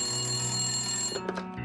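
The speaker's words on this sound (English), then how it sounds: "he received a phone call" A telephone bell rings in a continuous trilling burst that stops partway, followed by a couple of faint clicks.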